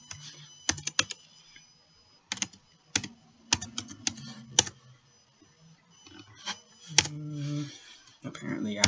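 Fast, uneven typing on a computer keyboard clatters up close in short bursts of clicks, with brief quiet gaps and a little speech between them.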